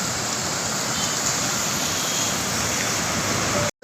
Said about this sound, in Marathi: पाऊस खूप चालू आहे, उल्हास नदीला मोठा पूर आलेला आहे